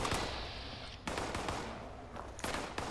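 Gunfire in Fallout 76, three sharp shots spaced about a second apart over a steady loud background of game noise.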